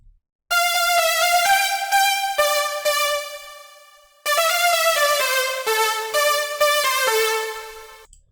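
A bright, detuned synth lead plays a short melodic phrase of sustained notes, loud and alone, with a brief gap midway before the phrase repeats.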